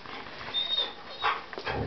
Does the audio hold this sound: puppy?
yes